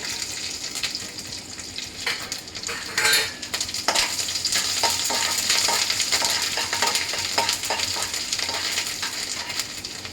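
Ginger and garlic fry in a pan for a paneer butter masala, a steady broadband sizzle running throughout with occasional stirring clinks and scrapes close by, no talking.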